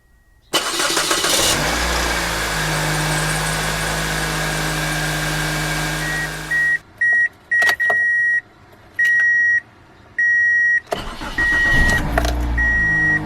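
A car engine cranks and catches on a small $12 lawn mower battery fitted in place of the car battery, then runs steadily before cutting off, followed by a series of loud intermittent beeps and a second short engine burst.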